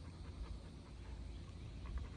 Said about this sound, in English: We have Rambunctious, energetic Australian Shepherd there, and he's here.